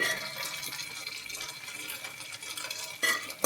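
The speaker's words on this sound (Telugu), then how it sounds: "ఉడకబెట్టుకున్న చికెన్ని కొంచెం సేపు ఉడకబెట్టాం కదా ఆ చికెన్ని ఇలా వేసేసి" Boiled chicken is tipped into a pan of fried green chillies and curry leaves for a chicken fry, giving a soft, steady sizzle and stirring hiss with a brief louder burst near the end.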